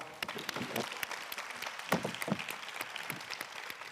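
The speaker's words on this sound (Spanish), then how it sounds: "Un fuerte aplauso, por favor." Audience applause at an animal-rights panel discussion, a moderate burst of clapping from a seated crowd, fairly quiet and distant, with no talking over it.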